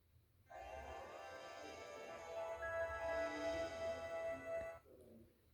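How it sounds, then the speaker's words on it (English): An old Sanyo cell phone plays its startup sound, a sustained electronic melody of steady tones lasting several seconds before cutting off abruptly; fairly clear and close, with no talking over it. "Nice old Sanyo startup sound there."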